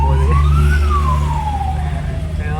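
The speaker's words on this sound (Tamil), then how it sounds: "ஆம்புலன்ஸ் வேறு போகுது." An ambulance siren passes on a road in Tirupur, a loud wailing tone rising then falling as it goes by, over steady traffic and engine rumble.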